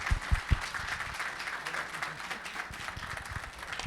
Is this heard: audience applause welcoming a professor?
yes